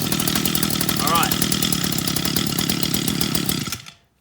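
A small pull-start engine running on choke fires up straight away. It keeps running at a loud, steady, buzzing pitch, close by, then cuts off abruptly near the end.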